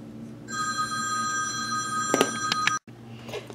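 A telephone bell rings loudly and steadily for about two seconds in a quiet craft room, then cuts off abruptly, with faint rustling before and after.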